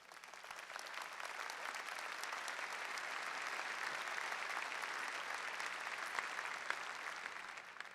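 A large audience at a 2009 University of Washington freshman convocation claps steadily to welcome the provost, a dense, even wash of applause that holds at the same level throughout.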